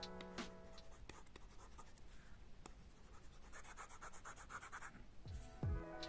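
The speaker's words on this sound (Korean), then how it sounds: "와콤 원펜을 사용하여 쓰면 이러한 사각거리는 소리가 들립니다" Scratchy, papery strokes of a Wacom One pen writing on a tablet screen, close and quiet, in short irregular bursts with a few sharper ticks.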